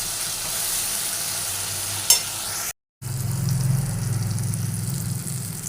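Spice paste for a rohu and catla fish curry fries and is stirred in hot oil, a steady close sizzle with a scrape near the middle, a brief cut, then a louder, fuller crackling fry.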